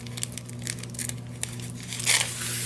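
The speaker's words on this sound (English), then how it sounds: "we'll just get our little scissors in here and just trim that" Small scissors snip and trim a thin glassine bag, giving a run of close, dry crinkling and tearing sounds with a steady low hum underneath.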